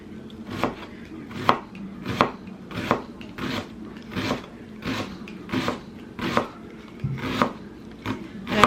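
An onion is chopped on a cutting board with a knife, steady close thunks repeating about every three-quarters of a second, alone with no talk.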